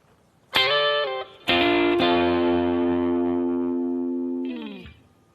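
A distorted electric guitar plays a short riff of sustained, effect-laden notes with a long ringing hold, then a brief final phrase fading out.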